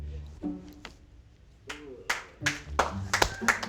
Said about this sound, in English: I'll clap just to be involved